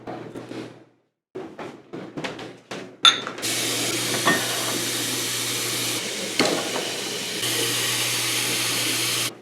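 Water from a running tap gushes steadily into a container of Samyang 2X Spicy Chicken ramen noodles, loud and close, after a few brief knocks and handling clunks, with no speech.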